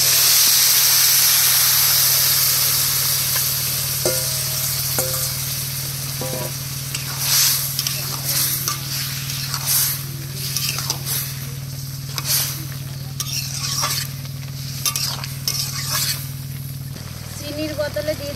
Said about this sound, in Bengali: এবার সিদ্ধ করে রাখা লাউ দিয়ে দেবো।